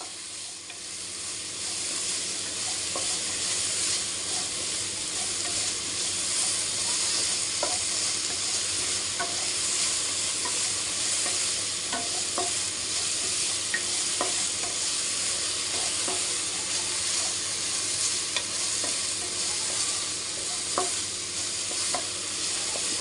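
Curry ingredients, including coconut pieces, sauté in a hot pan with a loud, continuous sizzle. A utensil stirs them with repeated scraping strokes throughout, and no one speaks.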